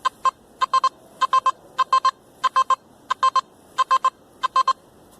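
A metal detector set to beach mode gives repeated short electronic beeps in clusters of two or three, evenly spaced over several seconds, clear and fairly faint against a quiet background.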